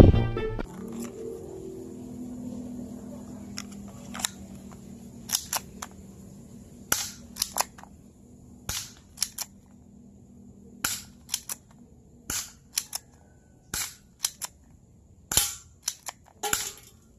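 A Mauser C96 metal alloy toy pellet gun fires a series of sharp, close cracks, irregularly spaced and growing more frequent toward the end, over quiet background hum with a low rumble at the start.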